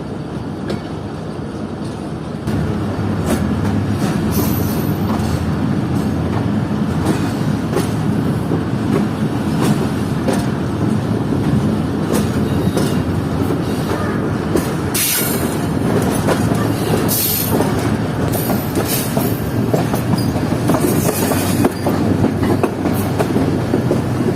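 Aboard the Fareed Express, a private passenger train between Lahore and Karachi, wheels roll loudly and continuously over the rails with rhythmic clatter and occasional squeals, steady throughout.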